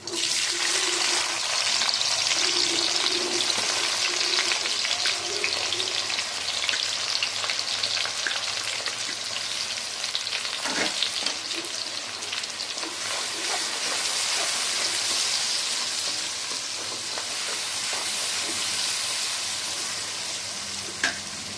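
Onions frying in groundnut oil, a dense, steady crackling sizzle that holds loud and bright throughout with occasional stirring clinks and no talking.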